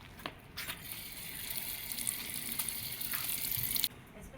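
Unripe green plantain being washed in water, a steady close splashing and trickling with small clicks and knocks, running for a few seconds before stopping abruptly.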